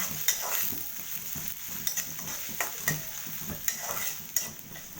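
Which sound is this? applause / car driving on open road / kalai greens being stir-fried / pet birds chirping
kalai greens being stir-fried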